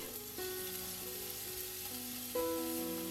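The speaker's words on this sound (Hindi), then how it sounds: "उसमें रफली कटा हुआ प्याज डाल देंगे और प्याज को हमें अच्छे से भूनना है।" Roughly chopped onions frying in two spoons of oil in a pan for kadai paneer, a steady soft sizzle under continuous background music with no talking.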